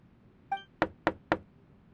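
Three crisp, evenly spaced knocks sound on a door, sharp and close in a quiet room, preceded by a brief bell-like ding.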